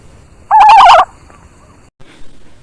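A single emu, a large flightless bird, gives one loud, warbling, gobble-like call lasting about half a second, followed by a quiet pause and a faint, brief rustle nearby.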